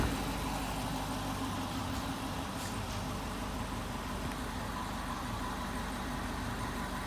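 A stock Chevrolet Corvette C6 V8 idles steadily, a continuous low rumbling engine drone with a constant level and no talking.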